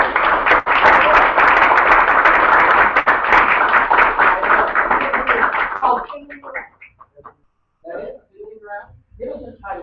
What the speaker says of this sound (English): Help me welcome with a round of applause, Clint Post.